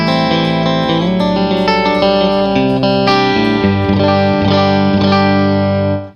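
A '59 Custom Shop Stratocaster plays a clean phrase through a Magnatone Twilighter stereo amp, single notes and chords ringing clearly with a gentle natural tail, alone and close.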